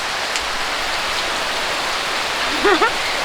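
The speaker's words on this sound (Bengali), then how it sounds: "এই দেখে দেখুন বৃষ্টি করতেছে" Steady rain falling, a dense, even hiss throughout, with a brief voice heard faintly near the end.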